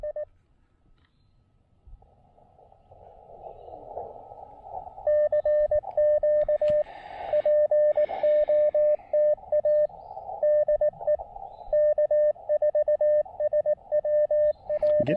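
A CW Morse code sidetone on the 40 meter amateur band beeps a steady single pitch in rapid keyed dots and dashes over faint static, loud and continuous once the sending starts.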